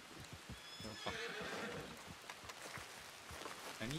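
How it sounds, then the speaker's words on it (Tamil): Horse in Red Dead Redemption 2 roleplay, with a shrill neigh rising over clip-clopping hooves, a second whinny near the end, fairly faint. "குதிரை ஒரேடியா ஓடி போயிடுச்சு."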